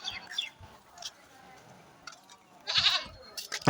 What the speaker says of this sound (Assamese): ছাগলী আছে এইফালে